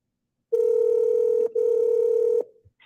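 A telephone sounds two steady tones while a number is being called, each lasting about a second with a brief break between, loud and close.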